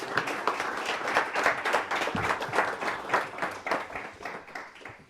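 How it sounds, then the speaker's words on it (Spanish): A basketball anniversary audience claps for several seconds, a dense burst of individual hand claps that swells and fades unevenly, moderately distant in a hall. "pido un aplauso"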